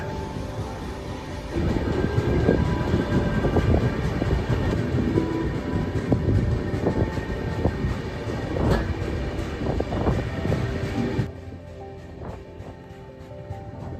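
The Mysore–Jaipur superfast train rumbles along the rails with steady clickety-clack and a loud, continuous rolling roar that fills the carriage. It dips in level toward the end as it runs on.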